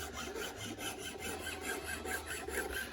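A file rasps back and forth across an acrylic pen blank in even, rhythmic strokes, close up and fairly quiet, with no voices.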